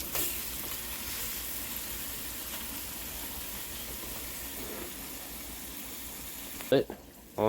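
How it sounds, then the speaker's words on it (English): Skate wings sautéing in butter over high heat in a skillet give a loud, continuous close sizzle that cuts off near the end, where a brief voice is heard. "these are guys who are just going to saute like this on pretty high heat butter"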